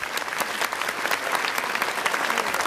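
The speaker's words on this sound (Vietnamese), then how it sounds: "hôm nay dành một tràng pháo tay cho cả bốn thí sinh" Studio audience applause for four contestants on a Vietnamese celebrity impersonation singing show, a dense, even roar of many hands clapping close and loud throughout with no talk over it.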